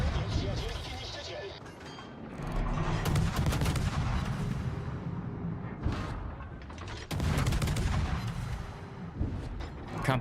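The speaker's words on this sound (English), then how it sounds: "now you can shoot over the island for free" Ship guns on the Bliska fire over an island in World of Warships, a series of heavy booming salvos with rumbling tails repeating through the clip, while a person talks over the gunfire.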